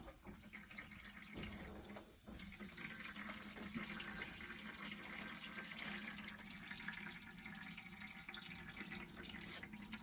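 Water runs steadily through leaking PEX A and PEX B plumbing after the supply is turned back on, a continuous close hiss and splash with no talking.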